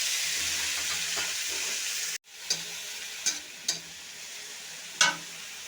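Chopped bathua greens drop into hot mustard oil seasoned with dried chilli and nigella seeds, making a steady, close hissing sizzle. A brief hush follows, then the sizzle resumes, broken by several soft clicks and scrapes of stirring.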